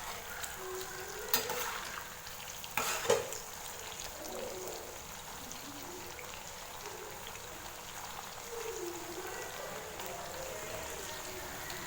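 Chicken 65 pieces frying in a pan of oil for a Sunday lunch, giving a steady, soft crackling hiss that runs throughout, with a couple of louder bursts near the start.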